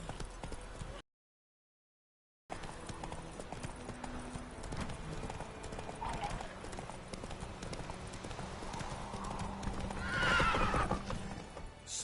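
In The Witcher 3, a horse gallops with a fast, steady clip-clop of hooves and gives a whinny partway through. The sound runs continuously over a game soundscape, with a short gap of silence near the start.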